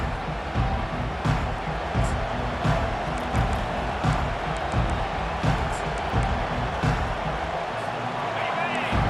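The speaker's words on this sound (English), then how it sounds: "This crowd bringing the energy and noise early." In the video game College Football 25, a stadium crowd roars as a steady loud wash of noise with scattered thumps and cheers, under a commentator's speech.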